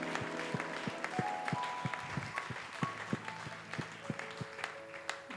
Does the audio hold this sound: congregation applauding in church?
yes